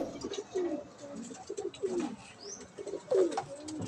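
Racing pigeons coo softly at a loft, several low throaty calls overlapping close by with faint chirps and a little background murmur.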